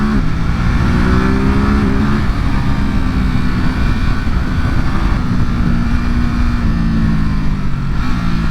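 A Ducati SuperSport 950 S motorcycle being ridden, its engine loud and close throughout, with pitch climbing and dropping through quickshifter gear changes up and down.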